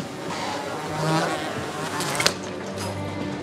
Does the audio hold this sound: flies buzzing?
yes